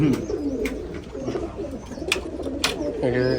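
Rajshahi Giribaz pigeons coo in low, rolling bursts throughout, close by, with voices and other noise mixed in around them.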